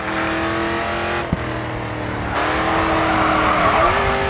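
A race car in the driving game Grid 2 slides through a corner in a drift, its engine droning steadily as the tyres squeal and the revs rise toward the exit, loud and close with no talk.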